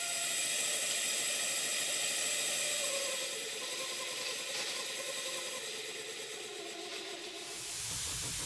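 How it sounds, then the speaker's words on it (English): A small model steam engine driving a generator runs with a steady hiss and mechanical whir, its tone shifting slightly partway through. "I'll leave you with the generator running, and it's running quite sweetly."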